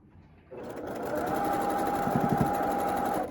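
A sewing machine runs steadily for about three seconds, stitching a curve in fabric while a presser foot guides the material, after a brief quiet start. The whirring hum is close and continuous, with no talk.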